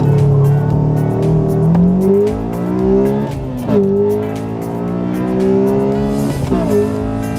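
A Honda Accord Euro R with a reflashed engine accelerates hard from a standstill, loud and close. The engine note climbs steadily through the revs, with distinct gear changes dropping the pitch before it rises again.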